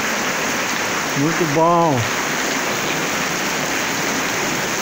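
Steady rain falls outdoors on a rural ranch, a constant broad hiss throughout, with someone briefly speaking in the middle.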